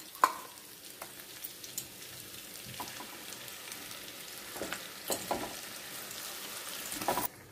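Ground masala paste from the mixer fries in a pan for a baby potato curd curry, a soft low sizzle with scattered scraping and clinking of the stirring spoon, quiet and close.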